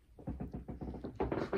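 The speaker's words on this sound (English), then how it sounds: "creaking boards as you can hear." Old wooden floorboards creaking underfoot in a beamed bedroom of an oast house, a run of close, uneven creaks and groans with steady rhythm, growing louder and denser toward the end.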